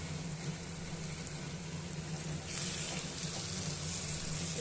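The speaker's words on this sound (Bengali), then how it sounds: "লাল করে ভেজে নেব" Mutton frying with crushed garlic in a pan, giving off a steady, close hiss and sizzle that swells partway through.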